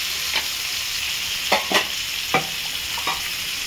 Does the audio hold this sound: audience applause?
no